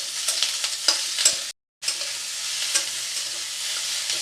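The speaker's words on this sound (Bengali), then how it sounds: "ভালো করে একটু নেড়ে নেবো।" Green chillies and capsicum sizzle in a pan over a medium-to-high flame while they are stirred, with scraping strokes over a steady close crackle and a brief silent break partway through.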